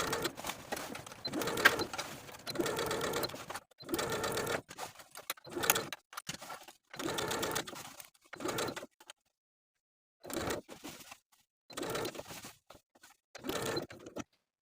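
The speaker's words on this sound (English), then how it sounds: "Now we're going to sew the bias tape all around the armhole with a 3/8 inch seam allowance." A sewing machine sews bias tape around a vest armhole in repeated short bursts of stitching with brief pauses between them, close and moderately loud.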